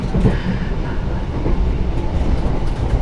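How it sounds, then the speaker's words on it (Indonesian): A Taksaka passenger train rumbles loudly and steadily through the Notok tunnel, a dense close roar of wheels and carriages with no pauses. "Kereta api Taksaka tambahan melintasi terowongan Notok."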